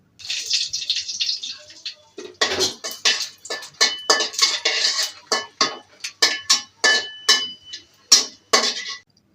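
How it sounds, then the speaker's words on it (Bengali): Dried red chillies fry in oil in a hot wok, heard as a series of sharp clinking, scraping stirs against the pan over a faint sizzle, steady and close without any talk. "এবার শুকনো মরিচ ভেজে নিলাম"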